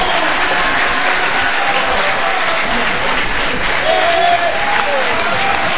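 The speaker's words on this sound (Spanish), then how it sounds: "Fuerte el aplauso para los bailarines que se han animado en esta noche de tango." Loud, sustained applause fills a tango evening at a traditional café-dance hall, a dense wash of clapping from a crowd with voices mixed in.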